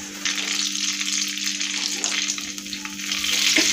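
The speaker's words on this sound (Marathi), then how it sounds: "कढाई ठेवलेली आहे, त्यामध्ये एक चमचा बटर घालूया आणि त्यामध्ये एक चमचा तेल घालूया।" A spoonful of butter and a spoonful of oil heating in a kadai, giving a steady crackling sizzle that stays even and close throughout.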